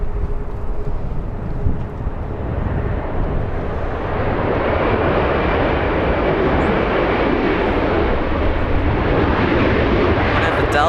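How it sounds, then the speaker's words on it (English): A Delta Airbus A319 airliner from Portland lands at LAX, its steady broadband engine roar building and holding loud throughout, with wind-like rush over the microphone. "Delta 2973, flying in from Portland, Oregon. The little A319 that we just saw."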